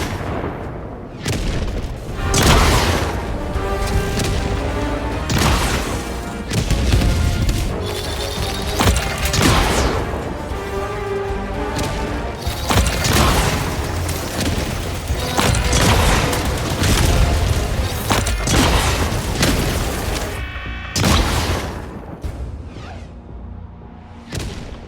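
Spear missiles striking bot fabricators in the Helldivers 2 video game, with repeated loud booming blasts and crashing impacts that come in dense bursts throughout, layered over continuous heavy combat noise.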